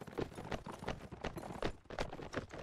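Horses gallop in Mount & Blade Warband, a rapid, uneven clatter of many hooves thudding close by in a continuous run.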